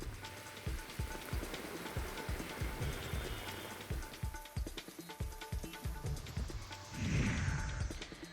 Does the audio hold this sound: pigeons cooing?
no